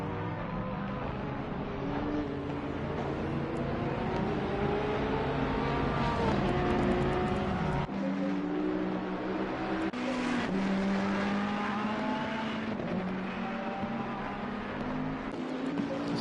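Race car engines in Assetto Corsa Competizione at the Kyalami circuit, a steady loud drone of several cars with rising and falling revs and pitch sweeps as they pass, continuing without a break.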